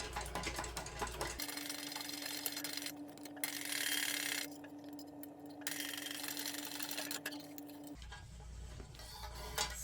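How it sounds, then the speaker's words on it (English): A sewing machine stitches messenger bag fabric at a quarter-inch seam, a fast steady mechanical whirr and rapid ticking of the needle running for several seconds, close and clear with no talk. "I'm just going to stitch this at a 1/4 inch"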